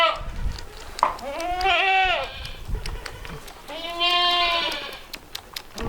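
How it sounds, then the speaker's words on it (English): Baby goats bleat close by on an icy farm, giving two long, wavering cries with a few shorter calls and some background noise in between. "All the baby goats are surrounding me."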